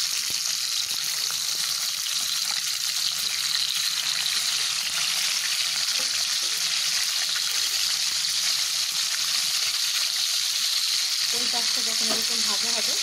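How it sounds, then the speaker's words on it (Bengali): Hilsa fish deep-fry in hot oil with a loud, constant, close sizzle that persists throughout, with faint background voices and a few utensil sounds near the end. "আমার একটু ডিপ ফ্রাই মাছ বেশি পছন্দ"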